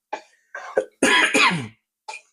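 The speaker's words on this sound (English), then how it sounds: "Keep coughing." A person coughs several times in uneven bursts, a couple of short hacks followed by two harsher, longer coughs and another brief one, close by.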